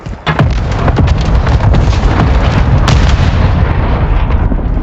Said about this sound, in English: Hostile mortar strike near your position.